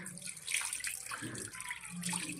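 Running tap water splashes steadily as fish are rinsed clean in a kitchen sink, a continuous close wash with small shifting splashes throughout.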